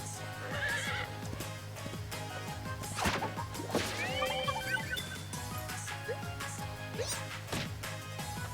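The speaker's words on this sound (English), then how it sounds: "Horse is a nice attack. He's very strong." A horse attack in the Miitopia video game: a synthesized horse neighs and whinnies over galloping clip-clop hoofbeats and sharp impact whacks, set against steady game music.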